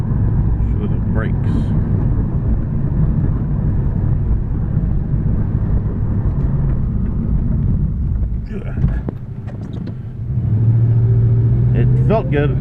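A 1985 Ford LTD drives along with a steady low engine and road rumble inside the cabin, then slows under braking with a brief dip and squeal before the engine drone returns; a person talks over it.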